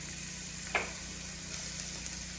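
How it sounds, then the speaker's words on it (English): Diced onion and garlic sizzle in hot olive oil with a faint, steady hiss and one brief clink near the start. "tablespoons of olive oil heating up, and now I'm going to put in, I have a half of an onion that I diced"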